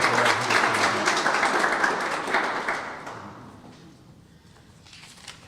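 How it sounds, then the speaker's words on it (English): An audience at an economic forum gives loud, dense applause that holds for about three seconds, then thins and trails away into a few scattered claps and room noise. "So give a big round of applause, Commissioner Lori Stegmann."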